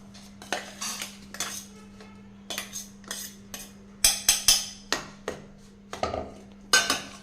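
A spoon scrapes and clinks against a mixing bowl as a ground sesame mixture for sesame balls is transferred in, in short, irregular metallic taps and scrapes, close and distinct, with no talking.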